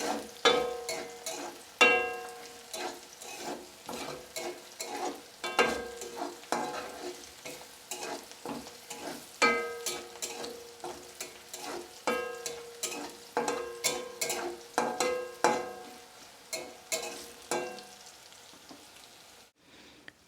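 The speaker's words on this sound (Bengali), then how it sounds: "এটা আমি 1 মিনিট ভালোভাবে নেড়ে চেড়ে দেব।" Onions frying in a pan, nearly browned, over medium heat, stirred with repeated scraping strokes in an irregular rhythm over a soft sizzle, close and fairly quiet.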